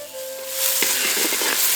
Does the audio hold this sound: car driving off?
no